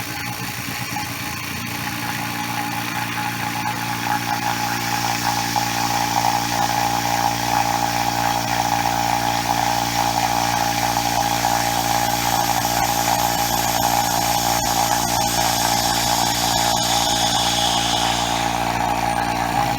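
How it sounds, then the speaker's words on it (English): A vacuum pump motor for wood stabilizing runs steadily and loudly throughout, a continuous mechanical hum with a slight shift in tone as it spins less. "You can hear the motor changing as it's not spinning nearly so much."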